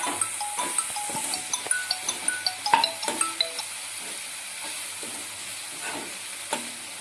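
Honey chilli chicken tossed with spring onion in a frying pan, a soft sizzle beneath repeated scrapes and clinks of a spoon, busiest in the first few seconds, then quieter stirring.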